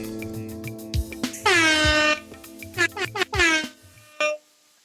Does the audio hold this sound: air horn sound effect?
yes